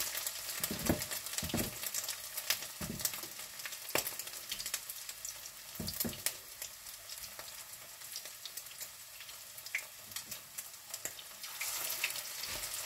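Frikadeller meatballs frying in hot oil, a steady crackling sizzle with sharper pops and spatters scattered throughout, close and fairly quiet.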